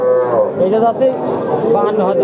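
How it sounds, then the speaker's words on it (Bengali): A young Sindhi breed heifer calf moos repeatedly at a busy cattle market, loud and close, with long drawn-out lowing calls that run almost continuously. "দুইটা বাছুর দেখতে পাচ্ছেন বারো বাজার গরুরহাট থেকে সিন্ধি জাতের বাছুর"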